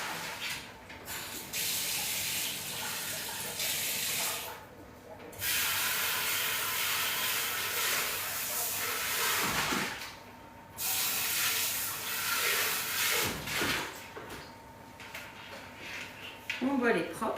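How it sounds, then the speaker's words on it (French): Water from a kitchen tap spraying into and rinsing a Thermomix TM7 mixing bowl, loud steady hiss broken by short pauses, close by, with a person talking over it at times. "Je vais rincer mon bol pour vous montrer tout ça."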